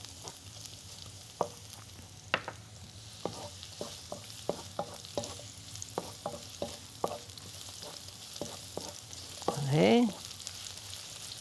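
Garlic and onions are stir-fried in a pan, a steady sizzle with frequent sharp scrapes and taps from a utensil. A voice speaks briefly near the end, over the frying.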